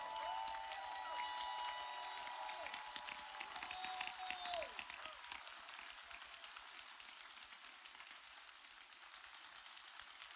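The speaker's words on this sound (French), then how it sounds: "Acclamez pour Jésus." A church congregation at a service in Mampong, Ghana applauds for Jesus, steady and continuous clapping from a large crowd that stays fairly distant and even throughout, with no voices standing out.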